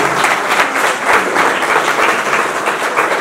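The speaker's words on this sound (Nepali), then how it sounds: "उहाँको सम्मान र कृपा खेलाडीहरूलाई जोरदार ताली बजाएर सम्मान गर्न चाहन्छौँ।" A crowd applauds players at a sports training event in Gulmi district, Nepal: dense, continuous clapping, loud and close, with no speech.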